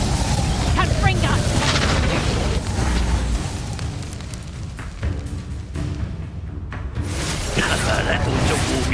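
The Confringo fire spell in the video game Hogwarts Legacy erupts in a loud booming blast with fiery whooshes, followed by further rumbling impacts and crackling, while a voice speaks over the action.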